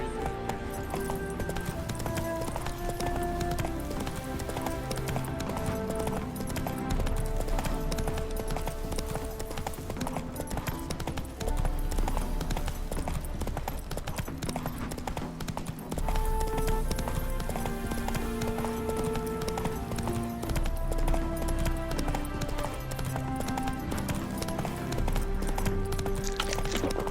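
Roach, Geralt's horse in The Witcher 3 video game, trots with a continuous rhythmic clip-clop of hooves under a background music score, with faint voices heard now and then.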